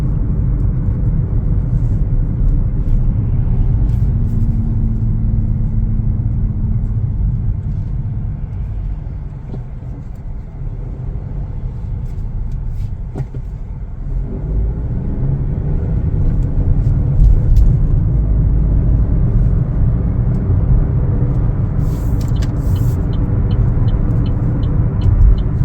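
A 2025 Chevrolet Trax 1LT accelerates with a steady low engine and road rumble heard from inside the cabin, easing slightly midway before building again, with faint ticking near the end.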